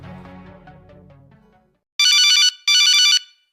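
A telephone rings twice in clear, loud electronic bursts during an outgoing call to a police officer, following a fading stretch of low background sound and then a brief silence.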